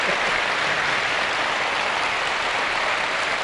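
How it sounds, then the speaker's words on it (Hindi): Audience at a five-day full-moon festival and meditation program at Mishri Math in Haridwar clapping to welcome a guest, a steady dense wash of applause filling the whole span at even loudness. "हम सभी लोग तालियों की करतल ध्वनि से स्वागत करते"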